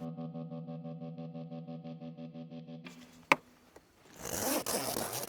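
A zipper closes along a fabric cargo cover inside a converted van. A brief rasping zip comes after a steady tonal hum, then a louder, rougher scraping pull near the end.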